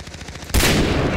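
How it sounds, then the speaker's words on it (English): A silenced pistol shot in a first-person shooter game: a short burst of muffled gunfire with a sharp onset, loud and close. "I just can shoot him with my silenced pistol"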